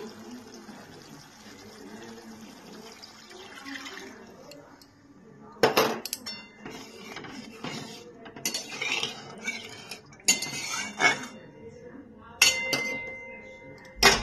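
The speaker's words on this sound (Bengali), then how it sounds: "এবার আমি এর মধ্যে ছোট বাটির এক বাটি জল দিয়ে দিচ্ছি।" Water goes into a pan of mustard and poppy-seed masala for a pabda fish curry, pouring and splashing amid metallic clinks of utensils against the pan, with a few sharper clatters in the second half.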